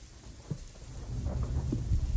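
Steady rain with low rumbling, like thunder rolling in the distance, building slightly louder over the short stretch.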